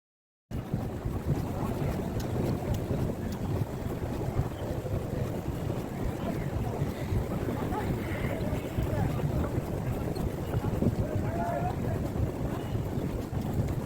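A pedal boat moving across a lake, giving a steady, continuous rush of water and wind noise close to the microphone, with no clear voices.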